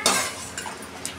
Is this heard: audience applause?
no